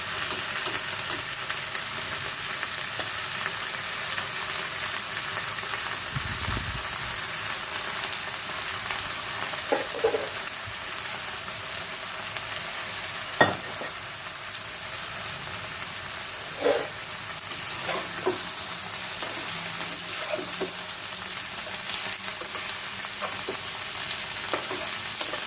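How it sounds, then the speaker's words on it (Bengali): Chicken fries in a pan with browned onion and garlic, giving a continuous dense sizzle like steady rain. A few soft clicks and stirring knocks come through now and then, and the pan sounds close and even throughout. "আমি এখনই চিকেনগুলোকে দিয়ে ভাজি"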